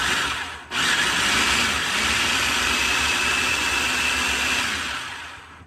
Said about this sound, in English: doesn't say how long to blend it